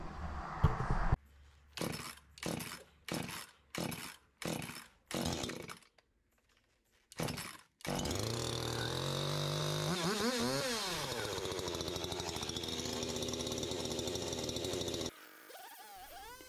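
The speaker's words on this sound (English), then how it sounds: "Love this saw and highly do recommend it." A Husqvarna chainsaw fires up with a series of sharp pull-start bursts, then settles into a loud, steady roar as it cuts into a burl log, the pitch shifting under load before easing back to idle near the end.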